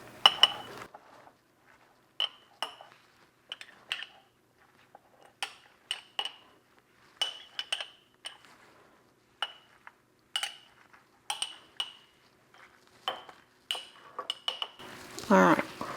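A metal spoon clinks repeatedly against a glass canning jar while tomatoes, sausage or eggs are being preserved, giving sharp, bright taps in irregular bursts up close, with a scraping rustle near the end.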